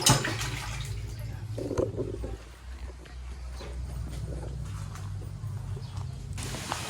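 A toilet with a strong flush in a beach resort restroom flushes with a rushing, gurgling surge of water, close by, that continues steadily as the tank refills.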